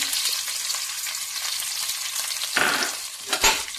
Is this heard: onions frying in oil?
yes